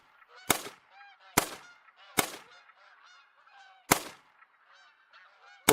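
Geese in the hunting game theHunter: Call of the Wild honk over and over in a lively overlapping chorus, with four sharp loud gunshots cutting through at uneven gaps and one more at the very end.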